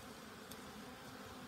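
Honey bees swarm around the entrance of a busy hive in an apiary, a faint, steady, continuous buzzing hum with no voices over it.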